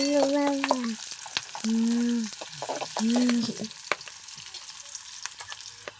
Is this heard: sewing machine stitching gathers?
no